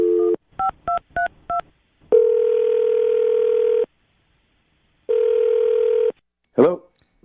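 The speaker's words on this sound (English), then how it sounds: "I'm going to dial his phone number right now and see if we can get him on the phone" A telephone dialing a number: a run of short DTMF tone beeps, then two long steady ringback tones with a pause between, ending with a brief clunk as the call connects.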